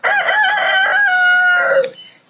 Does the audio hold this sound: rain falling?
no